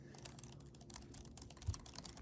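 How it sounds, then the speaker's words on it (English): Soft computer keyboard keys clack in quick irregular bursts of typing, close and quiet, with no one talking. "They said you could tell how angry I am by how hard I'm clacking keys."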